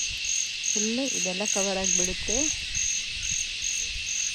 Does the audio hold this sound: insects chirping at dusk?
yes